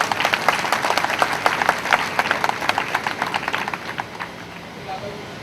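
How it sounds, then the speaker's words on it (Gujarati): An audience claps loudly to welcome a guest onto the stage at a Jain bhoomi shilanyas (foundation-stone) ceremony; the dense, crisp clapping gradually thins and fades out near the end. "આપણે એનું સ્વાગત કરીશું જોરદાર તાળીઓથી"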